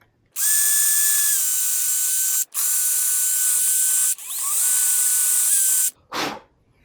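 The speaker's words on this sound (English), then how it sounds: "what I do is basically just widen these holes a little bit, so that way I'm able to get those in there just a little bit easier" A power drill widening holes in a pinball playfield whines loudly and steadily in three long bursts with brief stops between them, then gives a short final rev, close up and with no talking.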